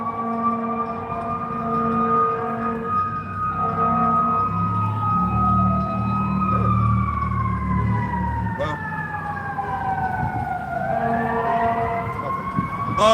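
Fire truck siren wailing in rising and falling sweeps, fairly close and steady over engine rumble, with the pitch bending as the vehicle moves past.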